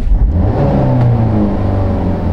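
A Cadillac ATS 2.5 four-cylinder engine revving under throttle, loud and close, holding a continuous rising hum with a strong low rumble for the whole stretch, no voices.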